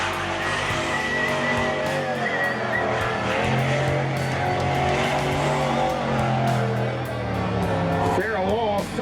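Big mud-racing trucks launching off the line, heavy engine roar and rising revs under a commentator's continuous talk, with crowd noise in the background.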